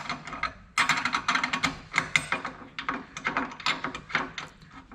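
Engine mount nuts are tightened on a car chassis during an LS engine swap, with a close, busy run of metallic ratchet clicks and clatter in quick uneven bursts, without talk.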